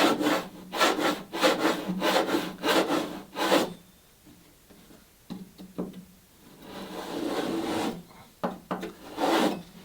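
Hand saw making a tapered cut in a wooden plank for a Catalina Wherry boat, with rhythmic rasping strokes up close, a brief pause, then slower, steadier strokes resuming.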